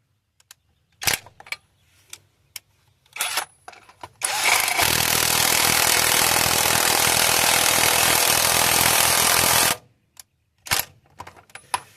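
A pneumatic impact wrench with a deep well impact socket hammers lug nuts tight in one long, loud rattling burst of about five seconds, framed by scattered clicks and clunks before and after.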